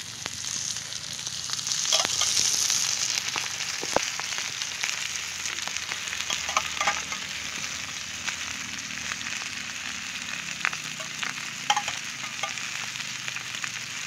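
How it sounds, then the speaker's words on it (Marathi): Fresh fish fries in a pan as oil is drizzled around it, giving a steady close sizzle with scattered pops and crackles throughout, no talking. "तर आता अगदी असं सगळ्याला कडने मी तेल सोडून घेणार आहे"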